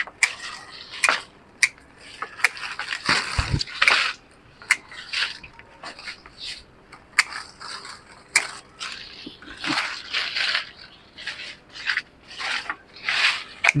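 Pruning cuts on fungus-damaged branches of a mango tree in a rooftop garden, a series of short rasping snips and rubbing strokes at close range.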